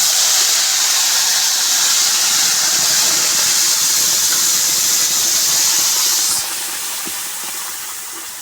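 Spice paste for chicken curry hits hot oil in a pan with a loud, steady hissing sizzle that drops and softens near the end.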